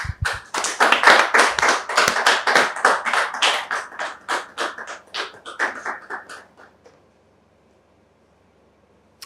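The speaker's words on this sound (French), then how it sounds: "Dame Thié Diane et Monsieur Thié Darius sous vos applaudissements, s'il vous plaît." A studio audience on a French talk show set claps for arriving guests, a dense burst of hand claps that thins into scattered, slower claps before fading to silence.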